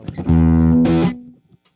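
An electric guitar played through a dirty, distorted amp model on a Quad Cortex rings out in a single sustained chord, bright and saturated, then cuts off with a short fading tail.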